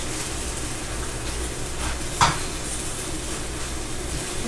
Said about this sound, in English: shrimp is marinating in the teriyaki sauce. I'm just gonna add the green beans.